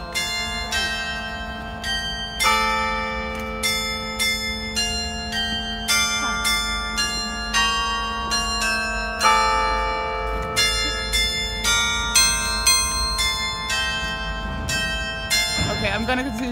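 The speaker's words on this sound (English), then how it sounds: "You can hear me through the bells?" Church bells peal continuously in Passau, several bells struck in overlapping rhythmic strokes, loud and close, with a person talking beneath the ringing.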